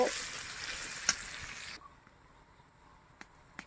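Onion and crushed garlic frying in a pan, a steady sizzle that drops sharply partway through, with a few brief stirring knocks and scrapes; no talking.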